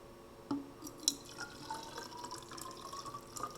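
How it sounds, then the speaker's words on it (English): A stirred mixture of soil and water is poured into a graduated cylinder in a soil texture sedimentation test, giving faint, close trickling and dripping of liquid with a few small splashes in a quiet room. "next I'm going to add this into my graduated cylinder after giving it a good stir"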